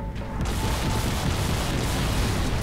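A big explosion in the video game Crysis 3, a dense, loud, sustained roaring rumble that fills the whole clip after a brief onset.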